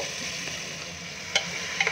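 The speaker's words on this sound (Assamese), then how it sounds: "তাতে অকণমান গোটা ইলাচি, দালচেনি দি পেলাই দি দিছে। অকণমান সময় ভাজি ল'ব।" Whole cardamom and cinnamon frying in refined oil in a pressure cooker, a soft continuous sizzle with a few brief scraping stirs near the end.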